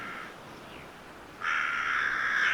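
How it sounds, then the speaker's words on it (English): A crow gives a short caw, then a longer, louder drawn-out caw after a brief gap, heard clearly on its own over a faint background. "Its caw is the herald of the end"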